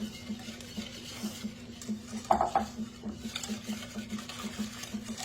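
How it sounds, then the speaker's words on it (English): Chocolate pie filling whisked in a bowl, soft rhythmic stirring with a few sharp utensil clinks against the side, over a steady low hum. "Mix it really super good, like that"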